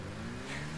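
A car accelerating in the video game Rocket League, a brief, steady mid-pitched engine drone that rises slightly toward the end, moderately loud and alone.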